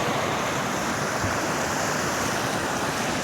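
Water churns and washes in a continuous broadband roar of waves, loud and steady, with wind rushing across the microphone and no voices.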